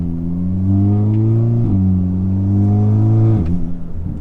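An Audi S3 with a louder aftermarket exhaust revs twice in quick succession, each rise holding a steady, deep, droning tone before dropping, close and loud with no talk.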